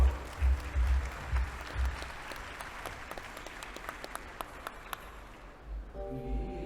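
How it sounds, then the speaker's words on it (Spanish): A conference audience at an executive forum applauds to welcome the session speakers, the clapping moderately loud at first and then thinning out. A voice and low thumps come in as the applause fades. "Recibámoslos con un aplauso"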